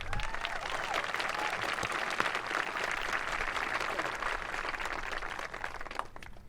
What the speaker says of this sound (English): I believe that clap started over here